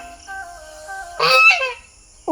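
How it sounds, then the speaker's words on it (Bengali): Near a hotel pond at an eco resort, a nearby duck or goose gives a loud, harsh honk lasting about half a second. Quieter bird calls and a low background hum come before it, with no talk. "ওখানে অনেকগুলো হাঁস আছে।"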